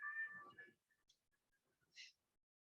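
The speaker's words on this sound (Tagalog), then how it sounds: "Natatawa ako kasi narinig nyo ba yung pusa?" A cat lets out a short, faint meow, followed by a few soft, scattered sounds in an otherwise quiet room.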